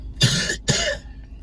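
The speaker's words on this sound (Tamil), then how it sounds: "பேசினாலே அவங்களுக்கு பயங்கரமா இருமல் வருது" Two harsh coughs in quick succession, close and loud.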